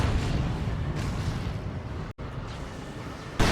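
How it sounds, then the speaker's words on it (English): A D-cannon shot in the strategy game Dawn of War 2 fires as a heavy, booming blast over a dense rumble of battlefield noise, with a brief dropout near the end and another sharp burst at the close. "That was a regular D-cannon shot you saw there."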